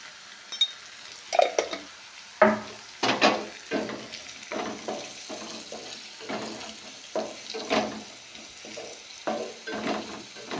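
Slit green chilies and turmeric fry in a pan for a tomato curry, with intermittent stirring scrapes and clinks over a soft, steady sizzle, close and moderately loud.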